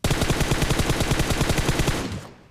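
Automatic gunfire in the mobile shooter game BGMI (PUBG) rattles out in a loud, steady, rapid stream of shots for about two seconds, then cuts off and fades.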